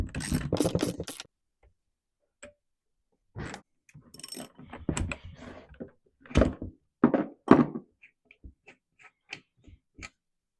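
A bar stud installer tool with a spring-loaded ball is worked on a Stihl MS 500i chainsaw stud, giving scattered close clicks, thunks and ratcheting taps separated by quiet gaps.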